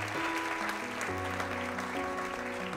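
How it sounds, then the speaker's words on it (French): An audience applauds the actors after a stage scene, a dense steady clapping under sustained music, no voices. "Est-ce qu'on peut applaudir tous nos magnifiques acteurs et cette magnifique scène?"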